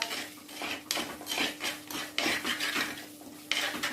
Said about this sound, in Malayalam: ചേർത്ത് നന്നായിട്ട് മിക്സ് ചെയ്ത് കൊടുക്കുക